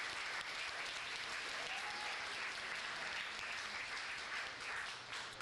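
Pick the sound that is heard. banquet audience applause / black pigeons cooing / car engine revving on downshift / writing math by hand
banquet audience applause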